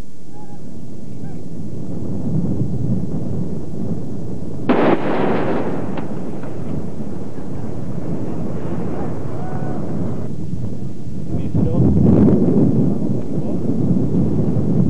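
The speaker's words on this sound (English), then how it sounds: "The Viper is normally fired as soon as it is in position to ensure a maximum of surprise" A Viper minefield breaching system detonates during a Canadian Forces hasty breaching operation, sending a deep, rolling blast boom across open ground around the five-second mark, followed by a long rumbling tail and a second heavy surge near twelve seconds.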